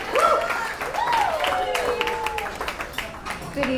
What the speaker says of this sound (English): Let's give a big round of applause for one of our matrons of honors, Aunt Hannah